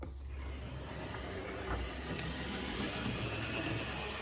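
A vintage mid-century HO scale model train runs laps on its track, giving off a steady, loud, continuous whirring hum with a faint hiss and no pauses.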